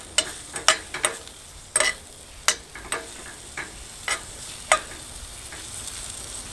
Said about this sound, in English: Starting to hear a little sizzle on our jalapenos there.